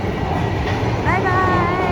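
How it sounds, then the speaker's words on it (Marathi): A Toronto subway train rumbles steadily close by, with a brief rising electric whine partway through and people talking over the noise. "ही आहे सबवे."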